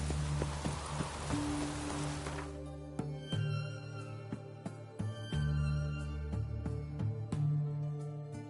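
Roach, a horse in the video game The Witcher 3, gallops with a steady clip-clop of hooves, near and fairly clear, the rhythmic beats continuing under a wash of rain-like noise that fades out in the first few seconds.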